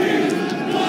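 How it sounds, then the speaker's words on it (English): Crowd noise at a Yu-Gi-Oh Championship Series tournament in Indianapolis, a loud, steady mass of voices that fills the whole second with no breaks. "The crowd is chanting"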